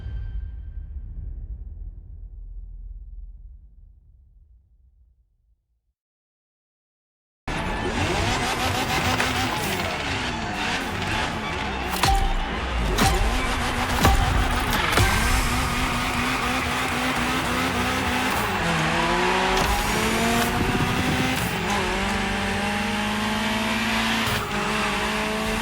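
A Ferrari GTO supercar in the racing video game The Crew Motorfest, loud and continuous engine roar with revving and tire squeal after a fade-out and several seconds of silence, no talk.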